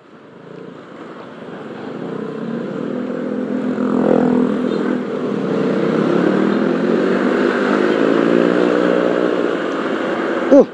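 A Honda ADV 160 scooter on a road tour accelerates, its engine note rising and swelling as the throttle opens, loud and close with wind rush throughout.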